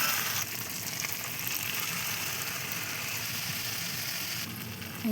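Chicken pieces sizzle in a pan with tomato, cumin, turmeric and garam masala for chicken biryani, a steady close hiss with faint stirring scrapes and no talking.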